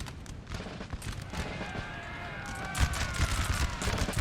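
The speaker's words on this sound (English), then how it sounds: "Oh, let's get a volley. Close range." Musket volley fire at close range in the Napoleonic battle game Napoleon: Total War, a dense crackle of overlapping shots over a steady battlefield din, with a louder burst near the end.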